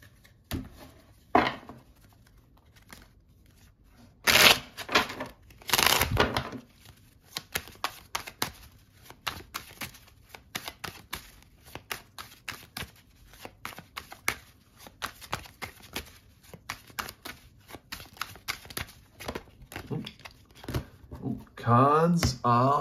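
Tarot cards being shuffled and handled on a table, a long run of quick papery riffles and slaps with a few louder bursts, close and fairly loud, with no talking over it.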